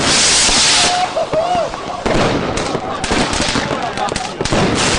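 Fireworks display at the Colosseum for the Fourth of July, a loud dense crackle of rapid pops and booms that rolls on continuously, close and overwhelming, with a voice and a brief whistling tone faintly caught in the din.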